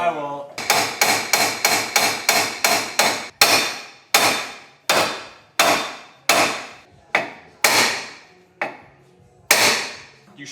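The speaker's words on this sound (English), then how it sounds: "I like that hammer. That's a good hammer." Hammer striking a metal part on a Nissan 240SX drift car build, starting with a fast run of close loud ringing blows, then slower, heavier, evenly spaced strikes, with brief voices underneath.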